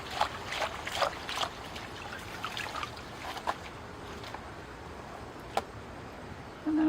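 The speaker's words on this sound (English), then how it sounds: "Okay, into the water it goes." A dwarf schefflera bonsai's root ball is dunked into water, giving close splashes, drips and trickles in scattered bursts that settle into a quieter steady wash.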